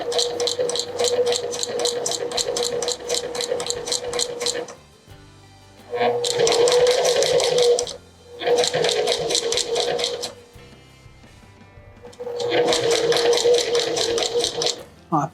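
A sewing machine stitches fabric in three or four bursts of rapid, steady needle chatter, each lasting a few seconds, separated by short pauses, up close and fairly loud.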